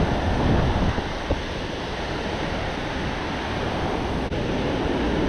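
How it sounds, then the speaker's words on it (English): Surf rolling in at an angle onto a Southern California beach, a steady broad wash of breaking waves with wind noise over the microphone, continuous and fairly close throughout, with no talking. "the water's a little extra messy, or these waves coming in at an angle"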